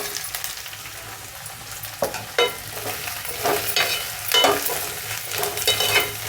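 Thin-cut capsicum pieces being stirred in hot oil in a pan, a loud close sizzle broken by repeated scraping strokes of the spoon, with no voices.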